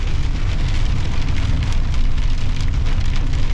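Dense hail falling and pattering on a surface in the Joshua Tree desert, a loud, continuous rattling clatter that stays steady throughout.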